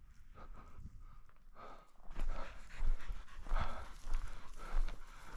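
Hunting bird dog panting close by in an open Saskatchewan field during a bird hunt, quick rhythmic breaths with footsteps and shuffling, growing louder after the first two seconds.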